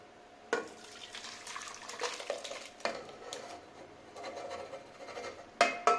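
Water poured into a cooking pan while making hotel-style mutton salna, with a splashing pour, clinks of metal cookware and a few sharp knocks, close and fairly quiet.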